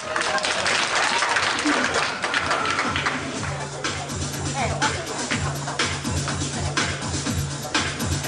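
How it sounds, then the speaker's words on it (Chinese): An audience at a 2007 alumni association anniversary gala in Southern California applauds, a dense, sustained wash of clapping from many hands with voices murmuring underneath. "来，掌声鼓励。"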